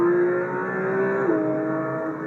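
Porsche 911 GT3 six-cylinder engine, rated 503 bhp at 8,400 rpm, revving loudly and close, a steady high-pitched wail that dips briefly in pitch near the end like a gear change.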